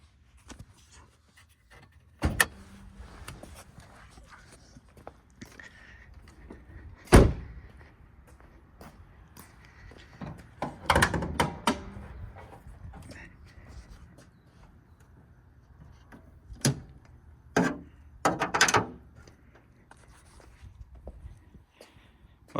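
Several sharp thumps and latches from the trunk lid and fuel door of a 1995 Mitsubishi Eclipse GSX being shut, scattered bangs over quiet background.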